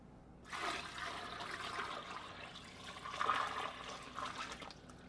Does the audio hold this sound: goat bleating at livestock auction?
no